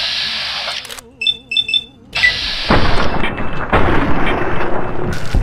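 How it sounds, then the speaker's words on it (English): Head explosions during combat in Fallout New Vegas come through as a loud, harsh burst that swells into sustained explosive rumble, preceded by a short run of electronic beeps and chirps, with no talking. "Oh, the head explosions."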